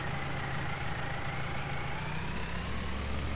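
A Ford 3600 tractor engine strains under load while towing in Farming Simulator 19, a steady, loud droning rumble with a low, constant engine tone throughout.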